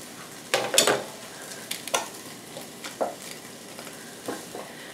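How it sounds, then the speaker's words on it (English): Three or four celery stalks and fifteen to twenty baby carrots drop into beef bone broth in a turkey roaster, giving a few close, separate splashy thuds and clatters spread over several seconds. "I have about 3 or 4 stalks of celery and, I don't know, 15 or 20 baby carrots. So I'm just going to throw those in here."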